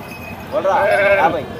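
A single wavering sheep bleat at the Gudur livestock market, close and fairly loud, rising out of quiet background noise and fading after about a second.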